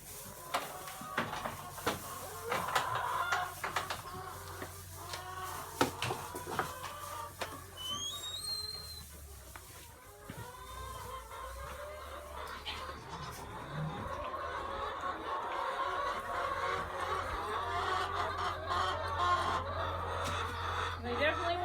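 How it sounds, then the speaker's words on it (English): Chickens clucking on a farm, with a busy flock close by alongside speech and other farmyard noise, followed by a steady continuous hum. "Let's go see the chickens."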